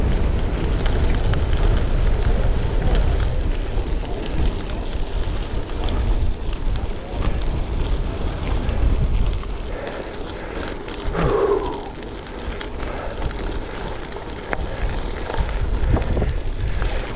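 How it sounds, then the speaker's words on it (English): Strong wind on Salisbury Plain buffets the microphone in constant gusty roars during a gravel bike ride, with a brief faint sound partway through. "Oh, this is windy."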